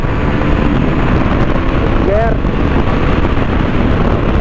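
A 2024 KTM RC 200 Black Edition motorcycle shifts from third to fourth gear without the clutch, with a brief rising rev blip around the middle, almost buried under constant loud wind roar.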